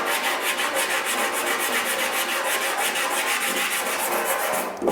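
Hand sanding of body filler on a motorcycle panel with 80 grit sandpaper: a steady run of quick, even rasping strokes, close and fairly loud, continuing without talk until a brief stop at the end.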